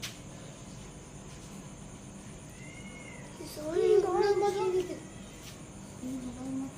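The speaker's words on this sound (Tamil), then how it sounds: "பூனை" A cat meows a few times at moderate distance in a wooded outdoor setting, its wavering cries standing out briefly over steady background hiss and insect-like whine, with a faint later call.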